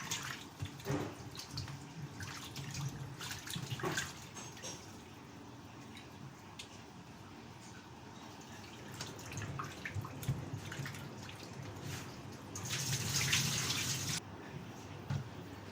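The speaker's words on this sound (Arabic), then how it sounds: "تحت الحنفية وتدعيه كويس بالمية" Raw chicken is rinsed under a running kitchen tap; water splashes and streams steadily with brief drips, fairly quiet and near, with a louder gush toward the end.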